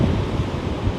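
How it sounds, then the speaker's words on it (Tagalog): Powerful sea waves wash onto a beach in a continuous roar of surf mixed with wind buffeting the microphone, loud and steady with no speech. "Medyo powerful lang yung alon."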